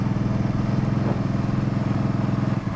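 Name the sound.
Can-Am Spyder three-wheeled motorcycle riding and braking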